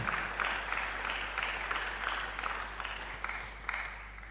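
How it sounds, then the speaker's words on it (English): Applause from an audience at a university International Day of Mathematics gathering in Tarkwa, Ghana: many hands clapping steadily at moderate volume over a constant low electrical hum, gradually tapering toward the end. "Let's give them a hand of applause."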